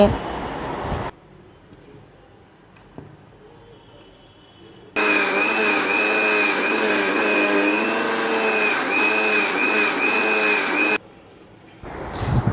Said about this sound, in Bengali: আমের আঁশগুলোকে ব্লেন্ডার করে নিয়ে